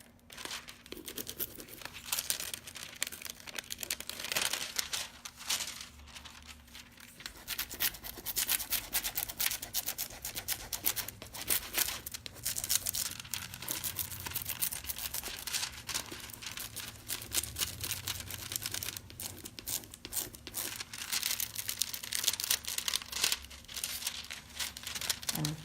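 Foil transfer sheet crinkles and rubs as it is pressed onto an old book cover, with continuous faint crackling and scratchy rustling throughout.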